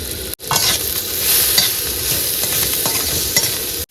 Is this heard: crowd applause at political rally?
no